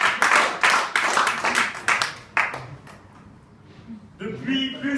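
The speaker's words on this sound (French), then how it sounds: "On applaudit." Brief applause breaks out at a French student debating practice after a speaker's line; a burst of brisk clapping fades out within about three seconds, then a voice resumes speaking.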